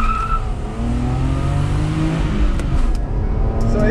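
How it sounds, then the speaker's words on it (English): A BMW E34 525 with a 2.5-liter engine accelerating, a loud steady engine drone with rising harmonics heard from close by inside the car, continuous for several seconds. "let me show you a little bit of acceleration on this 525."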